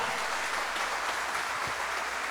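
A church congregation bursts into sustained applause during a Christian sermon, a dense wash of many hands clapping steadily with no voices rising above it.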